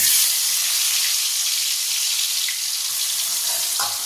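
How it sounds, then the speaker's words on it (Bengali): Prawns marinated in salt, turmeric and chili powder fry in hot oil, a loud, continuous, close hiss and sizzle that stays steady throughout. "এবার এই তেলের মধ্যে আমি চিংড়ি মাছটা দিয়ে দিচ্ছি"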